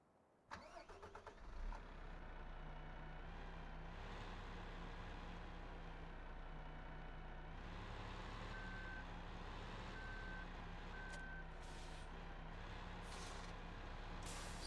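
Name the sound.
MAN truck engine starting and reversing, Farming Simulator 15 video game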